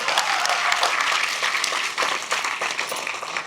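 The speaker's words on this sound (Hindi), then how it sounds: "ताली बजाओ यार, क्या कर रहे हो?" Audience applause fills a lecture hall, steady dense clapping from many people sustained throughout, close and fairly loud, with no voices over it.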